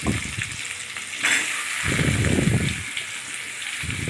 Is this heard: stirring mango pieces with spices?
yes